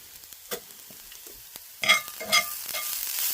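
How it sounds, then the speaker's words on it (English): A spatula scrapes and stirs in a frying pan with a few sharper scraping strokes over a faint background sizzle, no talking. "Sorry for the scraping sounds."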